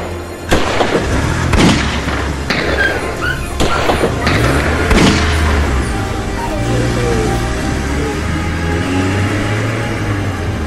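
Gunshot effects in a Bengali detective audio drama land as several sharp, loud booming bangs in the first half, followed by a quieter tail with low rumble and scattered squeals.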